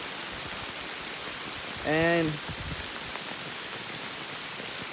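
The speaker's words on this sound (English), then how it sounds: "look how hard it's raining" Heavy rain pours steadily at night on a campsite along the Georgia Loop, a dense broadband hiss of drops throughout, with a short spoken word from a nearby man partway through.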